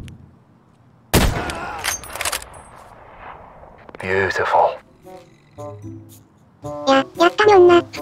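Sniper rifle shots ring out in the video game Escape from Tarkov: one sharp loud crack, then a burst of quicker shots later. A voice talks over parts of it, and game sounds fill the gaps.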